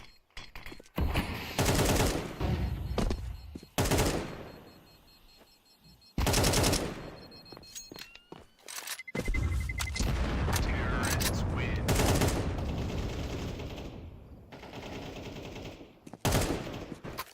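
Bursts of rapid automatic gunfire from MP9 and AK weapons in a Counter-Strike match crackle loudly in repeated volleys, with a caster talking over the action.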